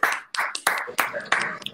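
Audience clapping at a live French-language talk show on Réunion island, heard as a few sharp, separate bursts spaced irregularly rather than a sustained ovation, fairly close and loud.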